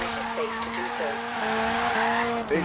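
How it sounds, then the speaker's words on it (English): A Mini Cooper S drifting uphill in a video game, tyres squealing in long wavering tones over a steady engine note, continuous and close, with someone talking over it. "There you are, that's me completing the drift."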